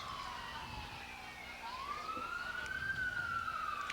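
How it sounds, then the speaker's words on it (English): Emergency sirens passing behind a high school boys' soccer stadium, a faint, distant wail that dips and then climbs slowly upward over a constant low crowd and outdoor murmur. "We got little sirens behind us here at the stadium."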